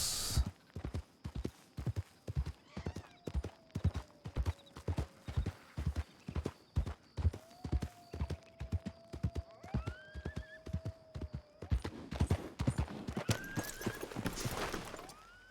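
Horse hooves clip-clop in a steady, close rhythm through a video game scene, with a few neighs and whinnies rising over the hoofbeats, while a louder rustling burst builds near the end.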